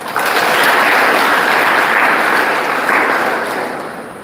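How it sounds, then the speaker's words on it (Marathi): Sustained applause from an audience at a college celebration, loud and dense throughout with a slight swell near the end before tapering off. "त्या सर्वांसाठी एकदा आपण जोरदार टाळ्या वाजवाव्या"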